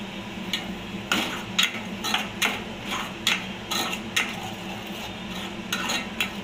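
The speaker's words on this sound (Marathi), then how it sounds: "चांगलं परतून घ्यायचं मसाला. तेलामध्ये चांगलं भाजून घ्यायचं मस्तपैकी." Masala is roasted in hot oil with kokum for a kingfish curry. A spatula scrapes rhythmically against the pan, giving repeated close scraping strokes over a faint, steady sizzle.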